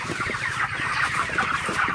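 A dense chorus of broiler chickens clucking and murmuring together, loud and constant, like a crowded poultry house, the birds panting open-beaked in hot weather.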